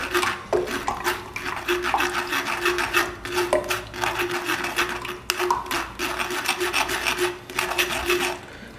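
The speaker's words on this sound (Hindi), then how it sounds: "ऐसे डाल के चम्मच की मदद से हिलाएंगे आस्ता आस्ता।" A spoon scrapes and stirs watermelon juice pulp through a mesh strainer over a jug, giving repeated close rasping strokes in an uneven rhythm over a soft liquid wash.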